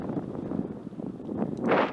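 Wind rushes past while riding a bicycle on a cold descent in Japan, a steady low rumble that rises into a stronger gust near the end, with no talking.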